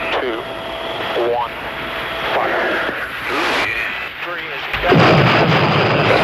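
Heavy bursts of AH-64 Apache attack helicopter gunfire and booming blasts mixed with the aircraft's engine drone, while voices talk over the noise.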